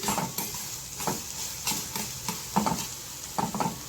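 An onion and tomato masala frying in oil, with a soft continuous sizzle and a spoon scraping the pan in repeated stirring strokes, close and clear with no talk.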